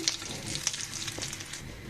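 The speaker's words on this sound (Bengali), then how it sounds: "আমি আর একটা নাস্তা দিয়ে দিলাম এটাও সুন্দর করে ভেজে উঠে যাবে" Potato and egg breakfast snack frying in hot oil, a steady close sizzle with scattered small pops and crackles throughout, no talking.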